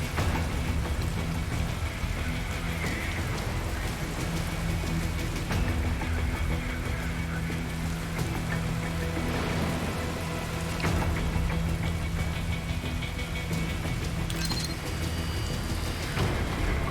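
Rain falls steadily in the video game Metal Gear Rising, a dense continuous patter with occasional low rumbles beneath it.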